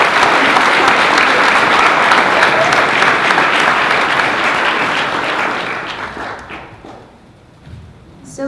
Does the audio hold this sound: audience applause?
yes